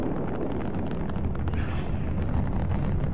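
A Galileo rocket launching in Watch Dogs 2 gives off a steady, loud, continuous roar of rumbling engine thrust, dense and low, with no voices.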